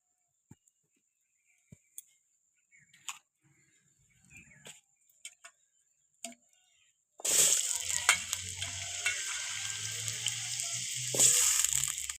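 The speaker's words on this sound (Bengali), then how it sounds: "এবার কড়াইতে দিয়ে দেবো তেল তেল দিয়ে আমি আলুটা ভেজে নেব" Potatoes dropped into hot oil in a wok start a loud, steady sizzle that fills the second half, after a few scattered clinks and taps of preparation.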